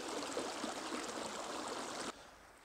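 A river runs steadily beside a parked camper, a loud, dense rush of flowing water that fills the clip before dropping abruptly to a quieter hiss near the end.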